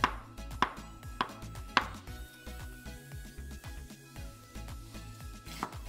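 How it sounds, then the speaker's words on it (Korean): A knife cuts a ripe, peeled avocado into pieces on a board, making a series of crisp, close chopping taps at an uneven rhythm, roughly eight strikes with no voices. "껍질 제거 후 적당한 크기로 잘라주세요."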